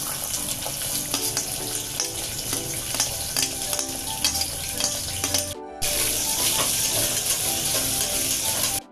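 Chopped onion frying in hot oil with cumin seeds and a little fenugreek in a pan for kairi (raw mango) dal, a steady loud sizzle with stirring scrapes, briefly dipping then surging louder as more goes in.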